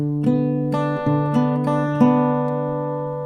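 Acoustic guitar picking an E-bass chord pattern, a steady run of plucked single notes that ring together over a held bass, clear and close with no voice.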